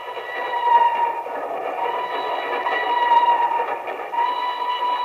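A radio-drama sound effect of a train crossing a high trestle over a deep mountain gorge: a continuous rolling rumble with sustained metallic wheel-squeal tones, steady and fairly loud, with no voices.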